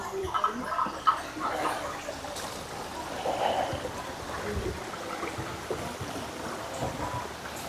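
A river flows with a steady, full rush of water, close and continuous, while people talk over it now and then.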